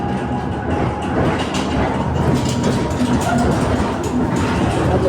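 A coupled pair of high-speed tram cars runs along the rails, steady loud rumble with rhythmic wheel clatter throughout, heard from on board.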